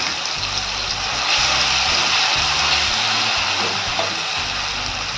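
A ground paste of roasted green chilies and peanuts sizzles in hot oil in a kadai on a gas stove, a loud, steady hiss that swells slightly partway through and carries on without pause or talk.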